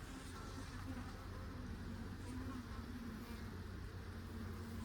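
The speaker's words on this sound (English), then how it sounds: "Right here at the top there's a cluster of bees" Italian honey bees buzzing inside an open hive during an inspection, a dense continuous hum with a few individual bees droning closer to the microphone; no voices.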